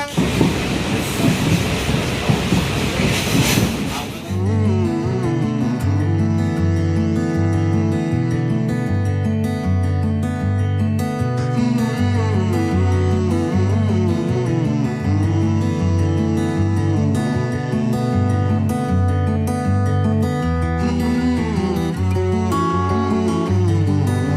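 A train runs along railway tracks in the Dooars, approaching Lataguri station, with loud continuous rumbling and rhythmic rail clatter that starts with a broad noisy burst and then settles into a steady, repeating pattern.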